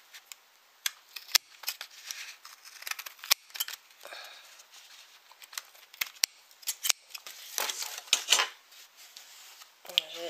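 Scissors snip paper sheets for a handmade notebook, a series of crisp irregular cutting clicks and rustles, close up, with a brief paper shuffle near the end.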